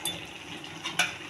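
Tofu curry with coriander powder is stirred in a pan: a soft, continuous scraping and light sizzle up close, with one brief sharper clink of the utensil against the pan partway through.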